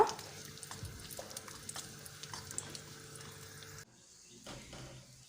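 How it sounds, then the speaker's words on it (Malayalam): Soft, steady sizzling of cashews and raisins frying in hot ghee, with occasional stirring clinks, quieting briefly before continuing. "നല്ല ചൂടായ നെയ്യാണെങ്കിൽ ഒരുമിച്ച് തന്നെ കരിഞ്ഞു പോകാതെ പെട്ടെന്ന് തന്നെ വറുത്തെടുക്കാവുന്നതാണ്"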